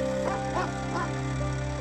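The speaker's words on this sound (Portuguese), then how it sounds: "Os latidos se intensificam, rosnando e rosnando" A dog barks in several short, loud bursts at close range against a steady background hum, with no one talking.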